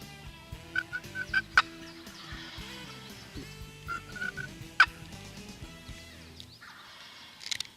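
Wild turkeys gobble nearby during a spring hunt, several bursts of calls to both sides, with fainter clucks between and a quiet outdoor background.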